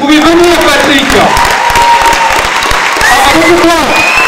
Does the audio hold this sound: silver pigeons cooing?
no